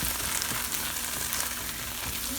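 JUST Egg vegan plant-based egg replacer sizzles steadily while being scrambled in a frying pan, a continuous close crackle with no talk.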